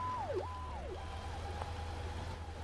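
Placeholder fire truck sirens wail in the firefighting video game Into The Flames, a repeating falling-and-rising sweep that sounds faint and thin over a low steady hum.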